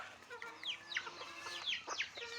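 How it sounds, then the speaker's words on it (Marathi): A free-range village rooster gives a string of short clucks and squawks at close range in the evening, with faint background noise between them. "हा कोंबडा आहे"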